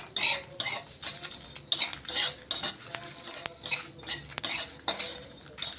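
A utensil stirs and scrapes spices and cumin being dry-fried in a pan, with irregular, rhythmic strokes clinking and rasping against the metal, fairly quiet and close, with no talking.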